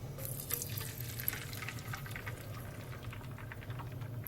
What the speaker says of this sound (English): Coat that pan again and pour.